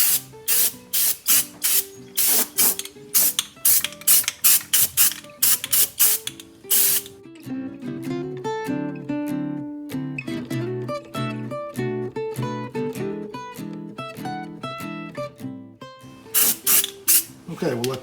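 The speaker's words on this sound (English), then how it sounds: "We're ready to shoot it with our bed liner now." A spray gun shoots bed liner coating onto rust-repair spots on a HEMI truck, close up: a series of short hissing bursts, then longer sustained passes, then a few more quick bursts.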